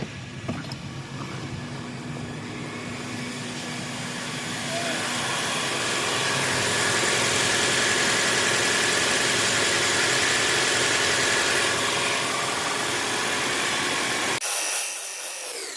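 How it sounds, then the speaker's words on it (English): A Toyota RAV4 hybrid engine idles in maintenance mode, a steady broadband rumble that swells after a few seconds, holds loud and even, then cuts off abruptly near the end. "turn it on, and it will be idling without turning off"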